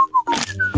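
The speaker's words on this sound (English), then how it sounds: "Who's that kid that's whistling?" A person whistles a short, clear tune of a few sliding notes, close and fairly loud.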